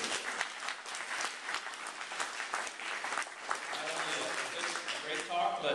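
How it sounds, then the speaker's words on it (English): Audience applause following a talk on wildlife habitat, a steady, moderately loud patter of clapping across the whole stretch, thinning slightly near the end. "let's give them another round of applause"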